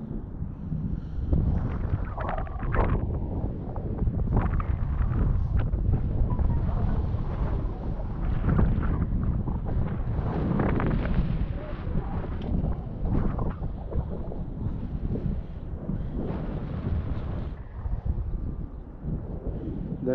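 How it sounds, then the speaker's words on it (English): Strong wind roaring and buffeting the microphone while riding along a highway near Riverside, a continuous loud rush with gusting surges throughout. "The wind makes it scary."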